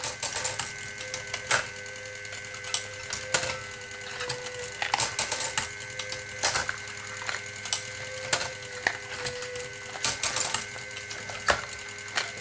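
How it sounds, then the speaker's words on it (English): A crank-operated machine drives a croupier's rake that slides a frame back and forth, making rhythmic mechanical clatter: sharp clicks and knocks at roughly regular intervals over a faint steady whine. "The croupier's rake is operated by this crank on top, and slides the frame backwards and forwards on the machine"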